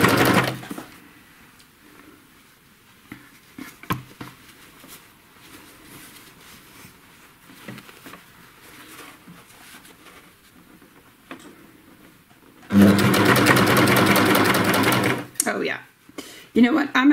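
A sewing machine stitches curved binding onto a pair of shorts, starting as a soft irregular patter under talk, then a loud, steady burst of machine running near the end.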